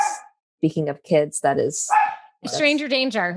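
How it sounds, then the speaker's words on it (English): Pet dogs barking inside a house, with loud overlapping barks and yips under and between speech. "I'm so sorry about my dogs."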